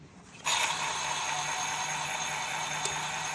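A Dolphin ring cutter grinds through a stuck tungsten carbide ring, starting abruptly with a loud, steady high-pitched whine and hiss that continues without a break.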